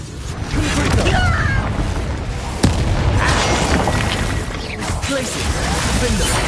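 The Confringo fire spell in the video game Hogwarts Legacy explodes as loud booms and sharp bursts over a dense, noisy combat soundscape, with a strong crack near the middle and voices mixed in.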